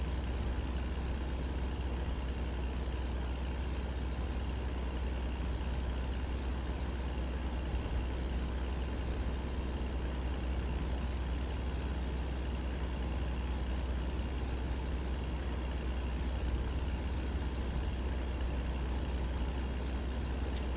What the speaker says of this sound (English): I will say the engine on this truck does sound nice.